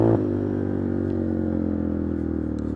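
A Yamaha Warrior 350 ATV that sat unused for a year idles loud and steady up close, its engine note rough and crackly with a constant low rumble and no talking over it.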